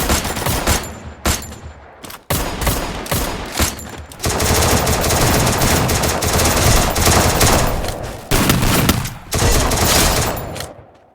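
Thompson submachine gun fire in the Free Fire battle royale game, with short rapid bursts giving way to long sustained automatic volleys, loud and close, and more fire layered over it near the end.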